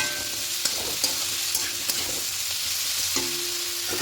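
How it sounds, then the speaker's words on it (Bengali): Mixed vegetables stir-fry with salt and spices in a pan: a steady sizzle under regular clinking spatula strokes, close and with no talking. "সবকিছু মিশিয়ে মিনিট দু মিনিট একটু সবজিগুলোকে ভাজা ভাজা করে নেবো আর একটু কষিয়ে দেবো"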